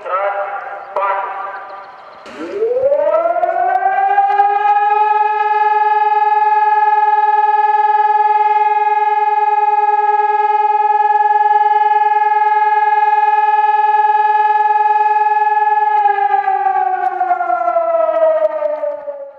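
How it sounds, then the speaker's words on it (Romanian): A civil defense warning siren sounds during an alarm system test in Giurgiu, Romania, rising from a low growl into a loud, steady wail that holds for about fifteen seconds before starting to wind down. Brief talk and clatter come before it. "Semnalul care tocmai a fost auzit de către toți giurgiuvenii a fost unul de testare."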